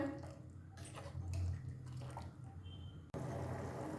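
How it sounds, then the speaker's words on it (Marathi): Marathi amti, a spiced lentil stock curry, simmers in a pot with soft, quiet bubbling and dripping liquid sounds, close by and faint. "आता ही आमटी अगदी छान व्यवस्थित अशी उकळू देऊया"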